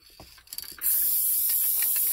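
Krylon spray paint hisses from a can onto a pen in one steady, loud, continuous burst. A few soft clicks and rattles from handling the can come just before the spray starts.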